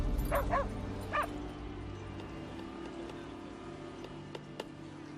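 Tracking dogs bark and yip in a movie scene, a cluster of quick barks at first, then a single bark and a few faint yelps at a distance over a low rumbling background.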